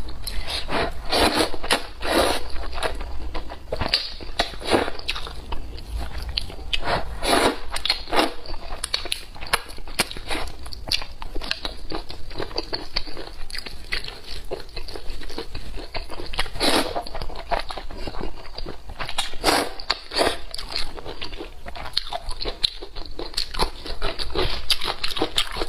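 Someone eats spicy noodles, eggs and crunchy pickled young ginger close to the microphone, with repeated crisp bites, crunching and wet chewing in an irregular rhythm. No one speaks.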